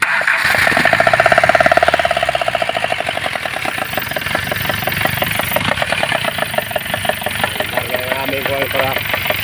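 A roller coaster ride machine with burnt engine wiring runs with a loud, rhythmic engine chug that revs up early and then settles into a steady knocking idle, with people talking nearby.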